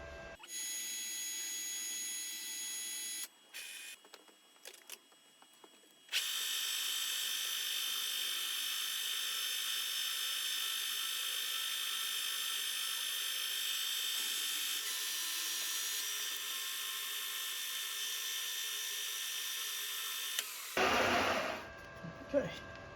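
Drilling a 4.5 mm hole in a 3D printed replacement part: a high, steady power-drill whine with short starts and stops early, then one long continuous run before it winds down, followed by handling noise.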